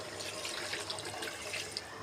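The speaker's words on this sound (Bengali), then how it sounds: "এখানে দিয়ে দিব হাফ কাপের মতো পানি" Half a cup of water poured into a pan of hilsa fish cooked with sour yogurt for hilsa pulao, giving a steady, close splashing rush of liquid for about two seconds with no talking.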